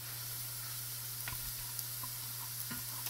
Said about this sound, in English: Now I'm going to add the crushed, the chopped mushroom stems.